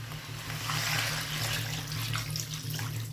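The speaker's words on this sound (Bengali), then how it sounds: "এবার দিয়ে দেবো ওপর থেকে গরম জল।" Hot water is poured from above into a pan of spiced potato curry, a continuous splashing gush that stays steady and fairly close for the whole stretch, over a low kitchen hum.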